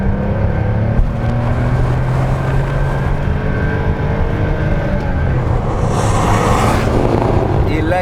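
A Porsche 911 Turbo 3.3 (930) pulls hard in second gear down a straight, its engine droning steadily as turbo boost builds after lag past 3000 rpm, loud from inside the cabin, with a voice over it.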